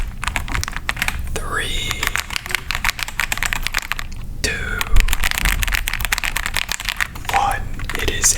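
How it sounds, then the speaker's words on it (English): A computer keyboard clatters in dense, rapid keystrokes close to the microphone, with a whispering voice counting down over the typing. "It is a keyboard, a computer keyboard, not like a piano."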